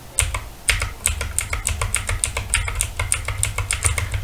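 Computer keyboard keys pressed in a steady run of crisp clicks, roughly two or three strokes per second, close and clear over a low steady hum, with no one talking.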